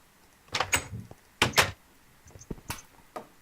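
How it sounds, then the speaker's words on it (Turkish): Wooden doors in Minecraft clack open and shut in a quick series of about five sharp, close clicks, with quiet gaps between them. "Şu kapıyı açabilirsin."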